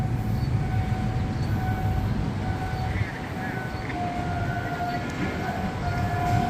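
A freight train's horn sounds a thin, steady tone over a constant low rumble at Makkasan, somewhat distant and partly buried in the background noise.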